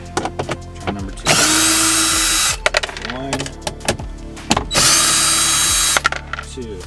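A power driver removes bolts on a 2017+ Ford SuperDuty cabin air filter housing, giving two long, loud whirring bursts. Ratcheting clicks, clanks and handling knocks fill the gaps, close up.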